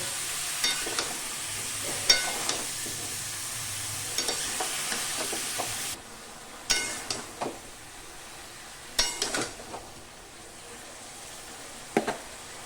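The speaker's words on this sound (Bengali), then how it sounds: "গ্যাসের ফ্লেমটা হাই রেখে এটাকে ভেজে নেব" Young jackfruit frying in a pan over a high gas flame, a steady sizzle with spoon scrapes and clinks scattered through, the hiss dropping quieter halfway.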